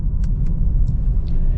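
The 2025 Maserati Grecale Trofeo engine in Corsa mode gives a deep, steady rumble from close by, with a few faint higher ticks above it.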